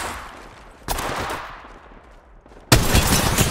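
Gunfire in the mobile video game Apex Legends Mobile: bursts of rapid shots, with a sharp loud volley near the start and a louder, dense barrage toward the end.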